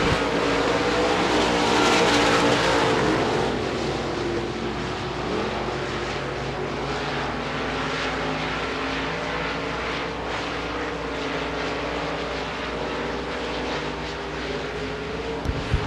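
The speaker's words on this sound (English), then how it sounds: "White flag in the air, 1 more lap to go as Murray falls back from both Short and Ortega" Modified race cars in a USA Limited Modifieds feature at Devils Bowl Speedway roar around the track on the final laps, a dense, continuous engine drone staying loud throughout with no talk.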